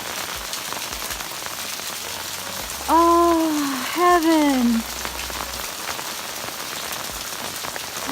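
Steady rain falling on the ground in a desert near ancient petroglyphs and village ruins, a constant soft hiss throughout, with a voice exclaiming briefly over it.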